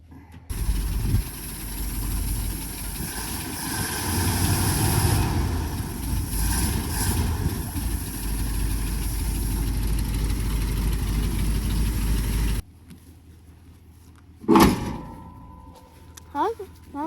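A car engine idles steadily and loudly for several seconds, then cuts off, leaving a quieter stretch with a couple of brief knocks and clatters.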